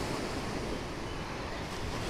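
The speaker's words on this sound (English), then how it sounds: "listening to the sound of the ocean." Ocean waves wash steadily onto a Maui shore as a continuous, even roar of surf mixed with wind buffeting the microphone.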